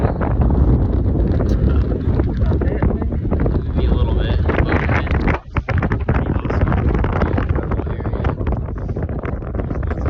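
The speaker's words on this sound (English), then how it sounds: "So it's a bit windy right now." Strong wind buffets the microphone with a constant loud roar during a long hike in Iceland, briefly dipping midway; a voice speaks faintly beneath it.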